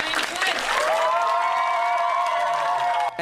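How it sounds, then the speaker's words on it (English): An audience at a summer camp applauds a visiting magician, with a full wash of clapping and cheering throughout and a sustained voice calling out over the noise. "Big round of applause for magician Brian Flint"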